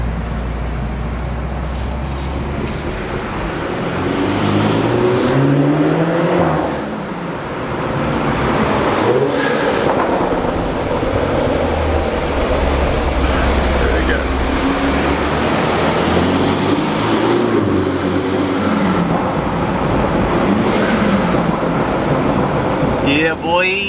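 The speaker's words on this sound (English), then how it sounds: "Those burbles are waking up." A BMW 330i B4 sedan tuned to Bootmod3 stage 1 drives with a loud droning exhaust, rising and falling revs and intermittent burbles, while people talk inside the car.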